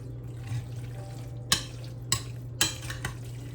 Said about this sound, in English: I'm gonna stir this up, get it well mixed